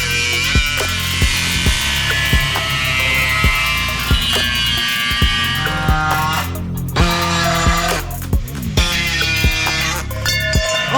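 A power tool cuts open the exhaust collector on a manual C8 Corvette drift car, a loud, steady grinding whine with repeated sharp clicks and rising and falling pitch as the blade bites into the metal, heard without any talk.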